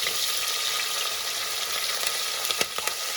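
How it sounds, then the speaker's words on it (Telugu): Onions and green chilies fry in a pan while cooking a flat-bean masala curry, giving a steady close sizzle throughout with a few brief crackles near the end and no talking. "ఉల్లిగడ్డలు వేసుకోవాలి. పచ్చిమిర్చి వేయాలి."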